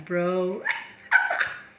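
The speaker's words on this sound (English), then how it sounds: "Dog, that's my dog." A pet dog gives a drawn-out whining bark followed by two sharper yelps, close and loud, with someone speaking briefly alongside.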